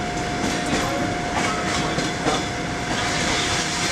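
A Trans-Siberian train runs steadily on the rails, with a continuous close rumble of the carriage and faint clickety-clack from the wheels, with no voices.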